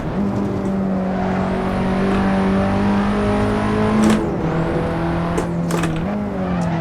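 Audi S1 Quattro engine in Assetto Corsa on the Nordschleife, holding a steady, loud drone that rises in pitch under acceleration, with brief gear-shift dips and a sharp tonal whine, continuous throughout.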